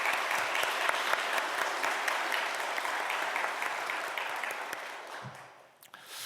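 A church congregation gives the choir a round of applause at an early morning service. The clapping is dense and sustained, then thins out and fades near the end.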